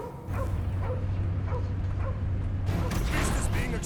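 Cosmo, a dog in the Guardians of the Galaxy video game, gives a few short barks and yips over a steady low game hum, with louder action noise rising near the end.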